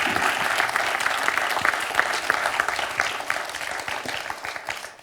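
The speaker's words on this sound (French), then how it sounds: "On applaudit Mathieu, et c'est 2 points." Studio audience applause on a TV quiz show, Questions pour un champion, a steady dense round of clapping lasting throughout before tapering off at the end, with no talking.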